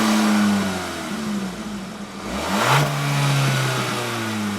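A 2025 Hyundai Kona Limited's 1.6-liter turbocharged four-cylinder with an 8-speed automatic accelerates, its engine note rising, dipping through a gear change, then climbing again, heard fairly close with no voices.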